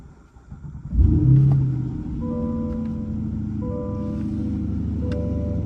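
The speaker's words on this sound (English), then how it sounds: "what it sounds like in the cabin when you fire this thing up, right from the factory exhaust" A 2023 Chevrolet Corvette C8 with factory exhaust cranks and fires up with a brief loud roar, then settles into a deep, steady idle rumble heard from inside the cabin.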